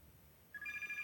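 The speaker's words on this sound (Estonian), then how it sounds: "Ja nüüd hakkaski meil telefon helisema" An electronic telephone ring from the Pizza Factory Tycoon video game begins abruptly halfway through and holds a steady, clear tone, moderately loud, with no speech.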